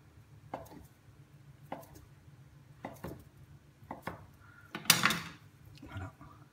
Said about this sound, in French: Je vais couper de la mozzarella.